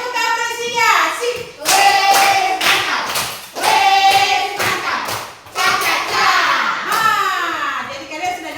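A classroom of children bursts into rounds of applause, the clapping loud and close and rising and falling in waves, with young voices mixed through it.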